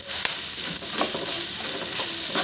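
Garlic and onion sautéing in a pan for ginisang upo, a steady close sizzle of frying with occasional stirring clicks and no voices.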